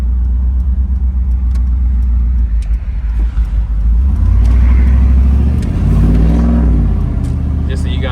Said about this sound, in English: exhaust sounds pretty good. It's coming out the side of the truck.